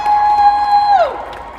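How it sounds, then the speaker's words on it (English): At a Calgary game convention, an audience cheers for actor Oded Fehr: a long, loud, sustained high whoop that bends downward at the end, carried over a steady crowd roar. "One more round of applause for Oded!"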